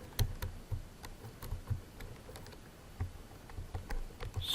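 Computer keyboard being typed on while writing PHP code, a loose run of soft, irregular key clicks close by with no talk.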